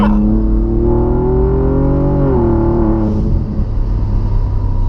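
A Hennessey Velociraptor 6x6 truck with an EcoBoost engine accelerates with a rising drone and one shift, then settles into a deep rumble, loud and close, with no talk.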